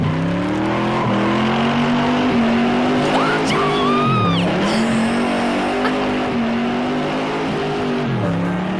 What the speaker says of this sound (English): we're gonna rev it up. And we're gonna crank it up.